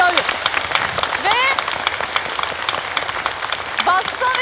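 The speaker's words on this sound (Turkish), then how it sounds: "O zaman daha sevgili bir alkış." Studio audience applause and cheering at a Turkish television masked singing show, lively and close, with excited whoops and voices calling out over the clapping.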